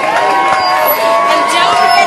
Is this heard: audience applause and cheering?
yes